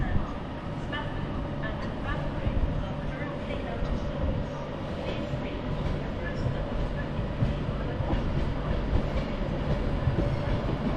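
A train rolls through Manchester Piccadilly station with a continuous low rumble and clatter of wheels on rails that stays steady and fairly close throughout.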